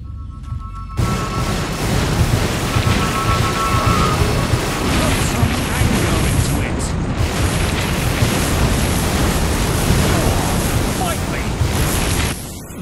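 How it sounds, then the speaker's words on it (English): A lightning spell cast in Fable Anniversary erupts as a sudden, sustained roaring crackle of electricity, loud and unbroken for about eleven seconds before cutting off abruptly. "And finally, cast lightning at me."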